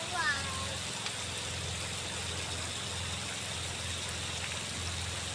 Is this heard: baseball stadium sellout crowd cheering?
no